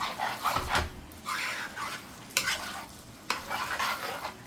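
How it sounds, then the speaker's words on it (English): Rice being stirred into tomato sauce in a pan, with several separate bursts of spoon-scraping and wet mixing, each lasting about half a second to a second, close up. "So I'm just going to give it a quick mix, just like this, to get everything really nice and mixed up well."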